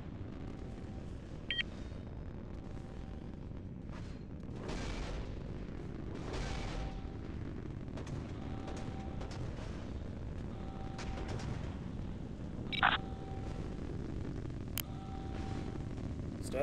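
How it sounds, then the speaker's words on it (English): Enemy warships firing in a naval combat game, a steady low rumbling bombardment with several heavy booms and a sharper blast partway through, under intermittent radio-style beeps. "Enemy is open fire."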